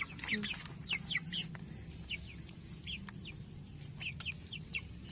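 Young Asil and Kabir chickens in a newly built coop cluck and chirp softly in repeated short calls, faint and fairly close, with a light background murmur.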